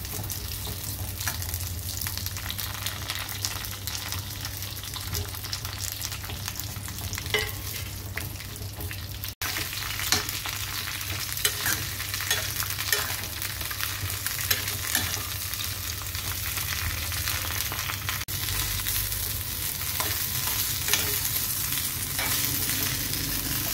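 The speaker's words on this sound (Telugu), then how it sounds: "కట్ చేసుకున్న వంకాయ ముక్కలు వేసి ఆయిల్లో బాగా వేయించుకోవాలి" Brinjal pieces and green chilies frying in hot oil for a Telugu roti chutney, giving a continuous dense sizzle with scattered clicks of stirring throughout, near and steady, with no speech.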